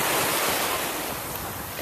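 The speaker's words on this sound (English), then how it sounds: "there's a light wind" A light wind blows steadily across a beach in Venice, Florida, a continuous broadband rush blending with the wash of surf, loud and close to the microphone with no talk.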